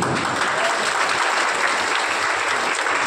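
Loud, continuous applause from a crowd at a devotional bhajan gathering, steady and dense clapping filling the whole stretch without a break.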